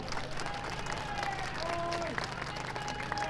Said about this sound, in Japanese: 皆さんも盛大な拍手でお迎えをいただきたいと思います。